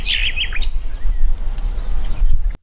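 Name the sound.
little bird chirping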